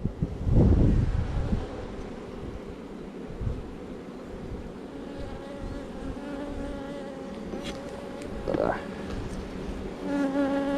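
Calm honey bees hum and buzz around an open hive during an inspection, a constant close drone with occasional louder passes near the microphone and light wind noise.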